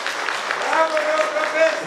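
An audience at a folk and traditions festival in Sărata applauds continuously, a dense wash of clapping at moderate loudness with a faint tone running through it.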